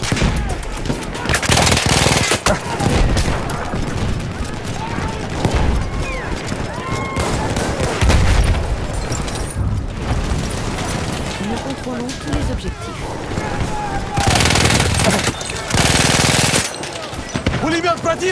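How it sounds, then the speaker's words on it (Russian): Bursts of machine gun fire in Battlefield 1 on the Tsaritsyn map, with loud, rapid volleys and explosive cracks coming in waves. Battle noise and shouted voices play under and between the bursts. "Пулемет противника! Там у них пулеметчик!"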